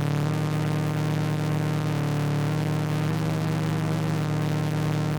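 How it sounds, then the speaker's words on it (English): A sustained buzzy synth tone from the Output Substance instrument with a wavering, phasey distortion from an intentional phase issue that shifts character partway through, loud and alone. "Gonna add almost like a distortion, but what it is, it's a phase issue that's intentional"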